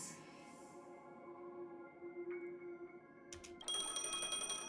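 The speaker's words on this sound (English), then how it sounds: "The phone rings." A telephone rings in the video game Honkai Star Rail, a bright electronic ring cutting in loudly near the end after a quiet stretch of soft tones.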